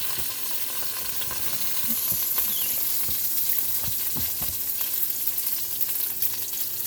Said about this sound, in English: we're going to go ahead and get our cabbage and add it in